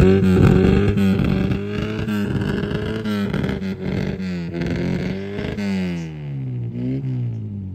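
A Mini at a British Mini Club show at Stanford Hall revs its loud exhaust hard, the engine note climbing and falling repeatedly up close before easing off at the end.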